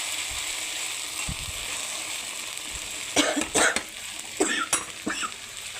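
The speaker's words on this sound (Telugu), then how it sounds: "జలుబు చేసి దగ్గు వస్తుంది." A person with a cold coughs several times close by over a soft, steady sizzle of food cooking in a pan, with a few short coughing bursts after a quieter stretch.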